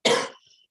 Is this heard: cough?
yes